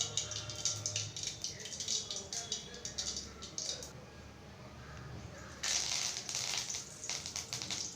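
Mustard seeds and curry leaves sizzle and crackle in hot oil in a kadai, a close, steady hiss with irregular popping that grows brighter toward the end.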